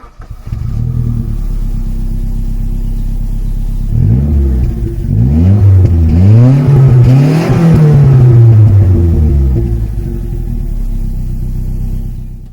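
A 1988 Saab 900 Cabrio with a 2.0 turbo engine drives with the top down, idling low before the revs climb and fall in a strong rising and sinking growl, loud and close, with no voices.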